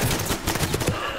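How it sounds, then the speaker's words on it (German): A rapid burst of gunfire from the tactical shooter Ready or Not, a magazine emptied in quick, loud, close shots with no pauses. "ein Schuss und ich hab mein Magazin draufgeballert"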